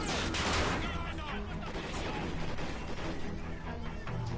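Gunfire in the video game Call of Duty: Ghosts: loud, dense bursts of shots crackle close up and run together with clattering game noise throughout.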